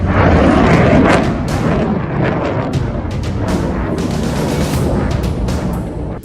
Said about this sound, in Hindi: अमेरिकी थाड से मारी हूथी मिसाइल